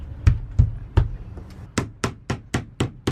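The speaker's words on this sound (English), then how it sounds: "Be careful when using your hammers." Hammer tapping a waterproof van floor plank into place, a dozen sharp knocks: four heavier strikes, then a pause, then a faster, steady run of crisp taps, close and alone.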